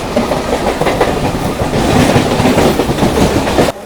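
A local train on the Howrah line rushes past close by, loud and steady with rhythmic wheel clatter over the rails, cutting off abruptly near the end with no voices.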